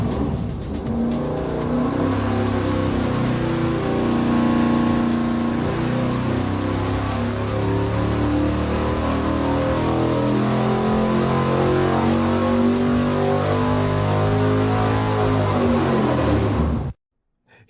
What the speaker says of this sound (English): I'm going to make Steve fire it up on the dyno